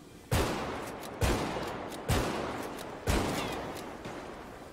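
Gunfire from a police shootout at a pier in a GTA roleplay game: four loud, sharp bursts roughly a second apart, each trailing off in a long echoing decay.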